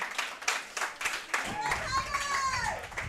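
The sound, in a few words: audience clapping for the guests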